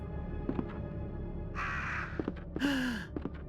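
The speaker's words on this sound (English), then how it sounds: "Oh, we're gonna get attacked by crows." Crows cawing in the video game Resident Evil 2: a few harsh, rasping caws in short bursts over a low ambient game backdrop, fairly close and clear.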